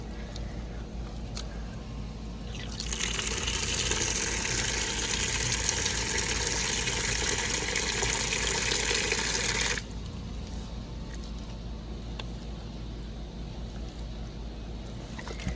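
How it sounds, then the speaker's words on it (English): Water pours steadily for several seconds into coconut coir potting mix during a home potting-mix build, a bright rushing stream that starts and stops abruptly over a low background hum, with no talk. "I'll probably have to put in some more water."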